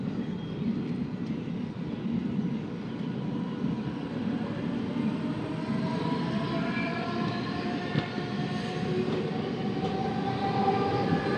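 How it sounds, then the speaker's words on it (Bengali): A crowded suburban train pulling slowly out of Dombivli station on the Mumbai–Kalyan line, heard from onboard as a steady low rumble and rolling clatter with rising whine, continuous and close. "গাড়ি একদম বেরিয়ে গেল হালকা করে ডোমলি স্টেশন থেকে"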